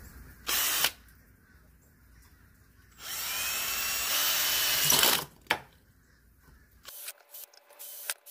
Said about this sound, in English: All right, now we can drill.